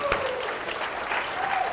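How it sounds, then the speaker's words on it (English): Seminar audience gives a sustained round of applause, a fairly soft, even patter of many hands clapping together, with a brief whoop near the start. "One more time, give yourselves a round of applause."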